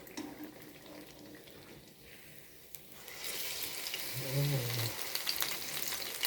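Maruya banana fritters fry in hot oil: a quiet bubbling hiss swells midway into a louder, steady crackling sizzle, close by and continuous, with no voices.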